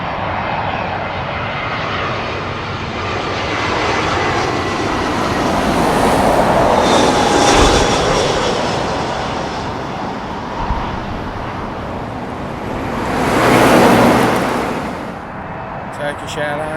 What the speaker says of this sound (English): British Airways A320 coming in from Dublin.